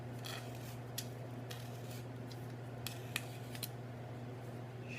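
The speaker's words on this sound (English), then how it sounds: "I just rotate the PVC, holding the scissors on that corner." Scissors blade held against the inside edge of a PVC pipe scrapes as the pipe is rotated, giving a faint steady rasp with scattered small clicks over a low hum.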